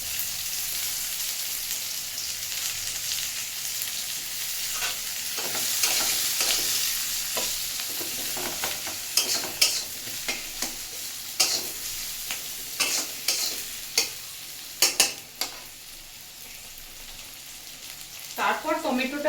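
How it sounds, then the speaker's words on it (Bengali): Garlic, green chili and chopped onion fry in a pan, giving a steady close sizzle punctuated by sharp scraping stirs and clatters toward the middle and end, with no talking. "রসুনগুলো হালকা একটু ভাজা ভাজা হতে হতেই লঙ্কাটা দিয়ে পেঁয়াজ কুচিগুলো দিয়ে দেবো।"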